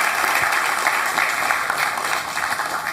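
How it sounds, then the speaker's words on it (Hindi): A studio audience gives a big round of applause for a guest, Jigna ji, on a talk show. Dense, continuous clapping fills the whole stretch at a steady loud level. "बहुत बड़ी तालियां जिग्ना जी के लिए।"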